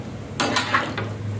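Soup being stirred in a pot, with a few metallic clinks of a spoon against the pot's side over a low steady hum.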